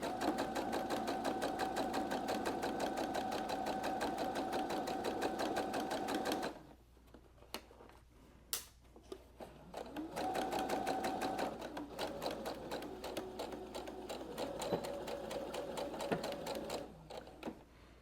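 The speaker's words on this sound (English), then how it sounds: "go ahead and stitch forward and then back stitch and continue on across" Sewing machine stitching a fabric art wallet: a close, rapid mechanical chatter runs for several seconds, breaks off into brief handling clicks, then resumes in steady runs for a back stitch and continued seam.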